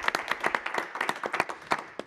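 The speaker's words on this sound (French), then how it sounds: "On peut applaudir" Sparse applause from a small audience at a local community event, a handful of distinct, quick claps in an uneven rhythm, fairly quiet and close, with no voices.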